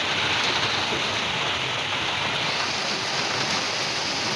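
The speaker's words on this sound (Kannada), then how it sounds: "ಮಳೆ ಬರ್ತಿದೆ" Steady rain hisses evenly and fairly loudly, a dense unbroken patter with no voices and no pauses.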